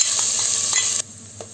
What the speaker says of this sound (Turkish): İçerisine 1 adet soğanımızı ekliyoruz ve kavuruyoruz.